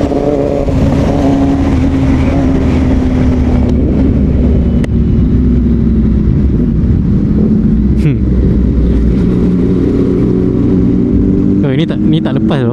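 Yamaha MT-09 motorcycle on a weekend ride toward Sepang, its engine loud and sustained with shifting revs and a few sharp throttle changes, a voice speaking over the riding noise.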